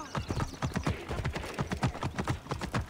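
Horse hooves clip-clop in a quick, even rhythm as a horse is ridden through a city in Assassin's Creed Origins, close and distinct with no talk over it.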